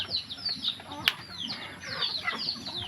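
Chickens at a small poultry farm with chicks, giving soft, repeated clucks and high chirps close by, at a fairly quiet level with a little background murmur.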